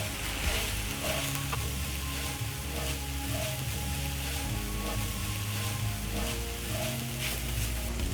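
Beef mince frying in a pan with a beef stock cube, sizzling steadily throughout with soft scraping and stirring sounds, close and continuous.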